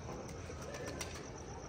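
Soft, faint wingbeats of seven or eight pigeons fluttering in flight, a brief rustling flap over a noisy outdoor background with no talking.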